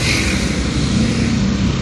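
Street traffic in a busy Philippine neighborhood: steady close engine rumble and tire noise from passing vehicles, continuous and fairly loud.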